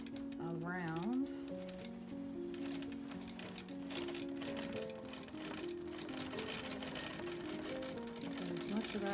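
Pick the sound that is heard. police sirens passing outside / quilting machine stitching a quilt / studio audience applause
quilting machine stitching a quilt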